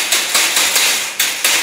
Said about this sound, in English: I'll just start hitting it down with the hammer